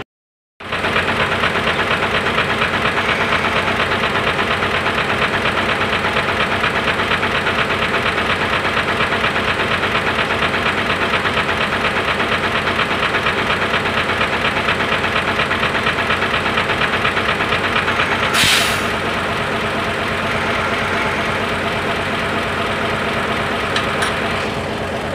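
A vehicle engine keeps running after the key is switched off and removed, a loud, steady idle with a rough knocking rattle that continues unbroken throughout.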